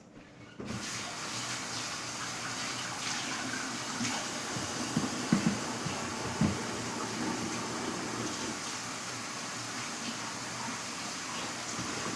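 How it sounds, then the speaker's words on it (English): Water runs steadily from a kitchen tap while hands are washed during banana pudding preparation, a constant hiss after an abrupt start, with a few small knocks and splashes partway through and no talking. "wash my hands"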